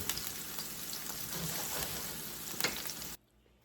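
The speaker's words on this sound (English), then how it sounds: "The onion is caramelizing very nicely." Onion caramelizing in a pan with a little oil, giving a steady, close crackling sizzle that runs unbroken and then cuts off abruptly near the end.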